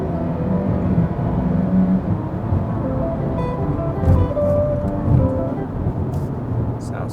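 A 2021 Hyundai Elantra hybrid with a 1.6L engine driving at night, giving a steady low road and engine drone with tyre rumble throughout, heard from inside the cabin at a moderate, even level.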